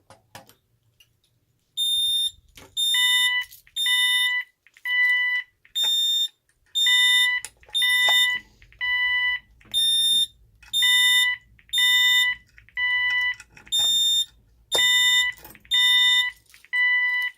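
An Ademco 6150 alarm panel keypad sounds its fire zone alarm: a loud, close electronic beep pattern that repeats in steady pulses of about one second for the whole stretch, with no talking.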